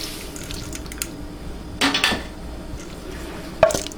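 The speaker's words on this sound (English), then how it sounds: "So now we're gonna add the rice." Rice poured into a metal pot for rice pudding, a brief rattling clatter around the middle, then a sharp clink near the end, with faint kitchen noise and water drips between.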